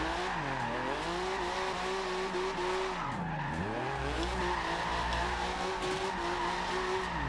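A 1982 Porsche 911 Turbo 3.3 drift build in Forza Horizon 2 slides with long tire squeals while its engine note swoops down and back up as it revs, loud and continuous with no talking.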